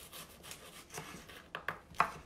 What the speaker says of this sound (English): Now I'm just going to go crosswise into the onion.